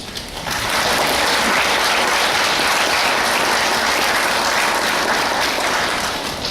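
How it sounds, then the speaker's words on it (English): An audience at a Goan festival convention applauds its organizers, a dense, even wash of clapping that rises quickly and holds loud and steady for several seconds before starting to thin. "And for that we all need to applaud them today, isn't it?"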